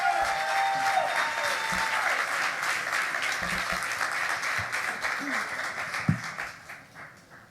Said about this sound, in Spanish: Vamos a recibir a mi esposa con un aplauso